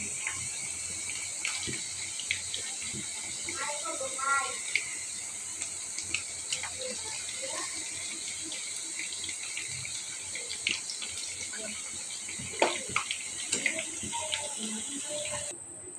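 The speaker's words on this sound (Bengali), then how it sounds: "এখন আমি এক এক করে সবগুলো পিঠা ভেজে নিলাম" Coconut-filled puli pitha dumplings fry in hot oil with a steady bright sizzling hiss. Small pops and crackles come throughout, heard up close.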